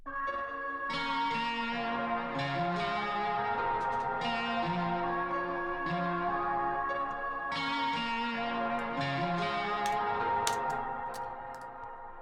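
A soft, echoing synth pad plays a slow stepping melody in a repeating loop, its bell-like tones ringing out with light ticking accents.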